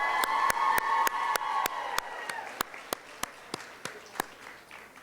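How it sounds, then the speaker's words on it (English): At a final assembly of a girls' state civic program, a single set of sharp, evenly spaced claps rings out over a sustained hum, close and distinct rather than a full crowd. "So big round of applause."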